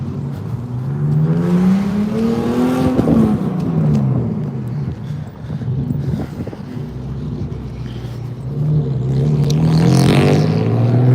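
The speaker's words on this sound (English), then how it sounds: "that car sounds like a damn motorcycle" A loud car passes on a city street near the George Washington Bridge in Fort Lee, New Jersey, with a raspy, motorcycle-like engine note that rises and falls, all under steady wind noise.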